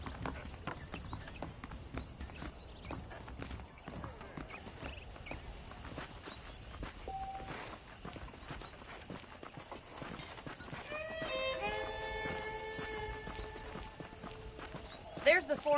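Horse hooves clip-clop steadily in the Western video game Red Dead Redemption, moderately loud under continuous talk, with a horse briefly whinnying near the end.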